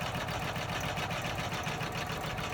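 An embroidery sewing machine stitches a double bean-stitch outline around cork for a reverse appliqué mug mat, giving a steady, close, rapid mechanical whir with an even pulsing rhythm throughout.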